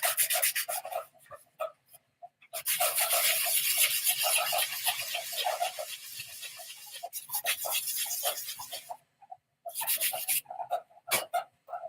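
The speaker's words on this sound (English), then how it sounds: "I have to do a little bit of sanding on it" Rough, scratchy sanding strokes rasp back and forth in close bursts on a 3D-printed UTV cabin air intake vent, with short pauses between sessions of rubbing.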